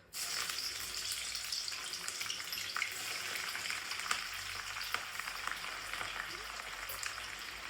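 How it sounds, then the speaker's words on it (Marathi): Green chillies dropped into very hot oil for chivda, bursting into a loud, dense, crackling sizzle that holds steady throughout, close to the pan, with occasional sharper pops; no talking. "तेल तर ऑलरेडी खूप तापलेलं आहे मी तळते मिरच्या"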